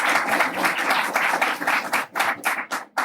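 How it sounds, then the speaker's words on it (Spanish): An audience at a university education faculty event applauds the dean, with dense clapping that stays strong and then breaks into thinner, uneven patches as it tapers toward the end. "reiteramos el aplauso también"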